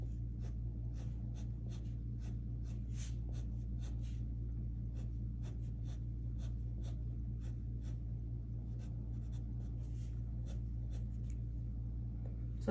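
Pencil sketching a Converse shoe illustration: a steady run of short, close scratchy strokes on paper, crisscrossing lines over a low constant hum, with no talking.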